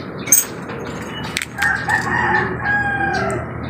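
A rooster crows loudly nearby, a long drawn-out call after a brief squawk, with faint clucking and other fowl in the background.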